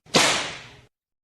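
A single sharp whip crack sound effect, loud and close, snapping out then trailing off in a brief airy swish before silence.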